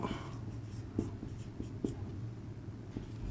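A pen or chalk writes numbers on a surface during a math lesson, making soft scratchy strokes with a few sharper taps, faint and close, with no talking.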